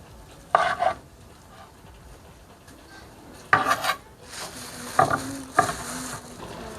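Gango, a Zimbabwean stew of pork, beef and sausage, is stirred in a pot: a handful of short, sharp scraping strokes in separate bursts, with quiet sizzling between them.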